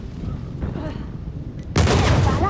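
A gunshot in the video game Uncharted 4 during a team deathmatch, a sudden loud broadband blast after quieter game ambience and faint voices, followed by sustained crackling noise.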